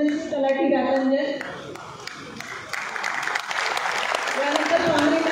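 Audience applause at an award ceremony for revenue officials, a steady wash of clapping from the crowd heard alongside a speaker's voice over a loudspeaker.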